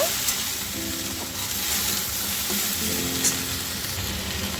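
Sliced kakrol (spiny gourd) sizzling steadily in a hot pan, with occasional scraping and stirring sounds over the continuous frying hiss.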